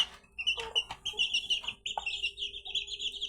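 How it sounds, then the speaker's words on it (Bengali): Several chickens in a small household flock of a rooster, hens and chicks, kept in a corner of a home, cluck and chirp with short repeated calls, close and fairly faint, with no talk. "বন্ধুরা, আমার ঘরে মুরগি আছে।"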